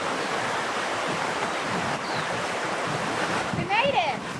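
Steady wash of ocean surf on a Fiji beach, close and continuous, with faint birdsong near the end and a voice briefly under the noise.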